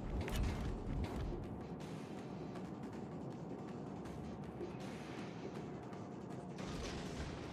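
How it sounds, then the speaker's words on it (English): Torpedoes launch from a warship during a naval battle in World of Warships, with dense, rumbling engine and sea noise underneath and a few dull thumps near the start, all continuous and fairly loud with no talking. "Let's fire our two very important torpedoes."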